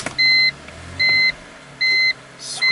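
A BMW dashboard chimes as the ignition key is turned on: four evenly spaced electronic beeps, clear and close, over a quiet car-interior background.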